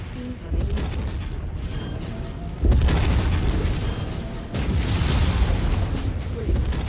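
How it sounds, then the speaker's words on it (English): Missile explosions in a mech shooter video game boom heavily several times over a steady rumbling battle bed, while voices talk over the action. "More hostiles inbound. Haha, liked him. Destroyed. Target acquired. Incoming missile."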